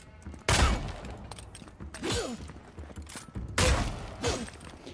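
Three loud bursts of shooting and impact in the video game Avowed, spaced a second or two apart, each a sharp crash trailing into rumbling debris.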